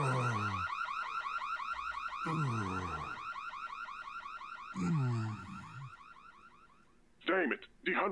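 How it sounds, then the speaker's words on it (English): An alarm bell rings in the video game There Is No Game, a steady loud electronic warble that stops briefly several times, with short low tones between bursts and a brief different sound near the end. "here comes the alarm bell."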